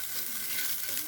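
Vegetables fry in a pan for a brown finish, a brief, soft and even sizzle with no talk.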